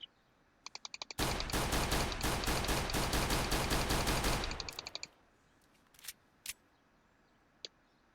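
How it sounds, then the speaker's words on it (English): Sustained video-game gunfire as officers fire at will, a dense unbroken burst of rapid shots lasting several seconds, framed by a few scattered single shots before it starts and after it stops. "They will keep firing until their mag is empty."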